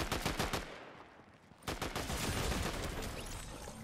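Rapid gunfire in a Fortnite match, dense bursts of shots in quick succession, loud and continuous after a brief lull.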